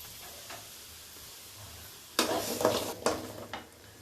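Shallots, ginger and garlic dropped into hot oil in a pan start sizzling abruptly after a quiet stretch, with crackling bursts and a few spoon clinks, close and moderately loud.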